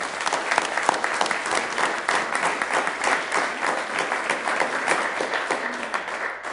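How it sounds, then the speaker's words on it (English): Council meeting audience giving a round of applause for an award winner, a moderately loud, sustained clapping from a roomful of people, steady and even across the whole stretch. "So let's give her a round of applause, please."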